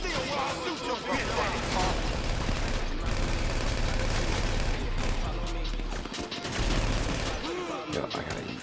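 Continuous bursts of video game gunfire in a mission, dense and loud, with rapid shots layered over a steady low rumble from start to finish while a player talks over it.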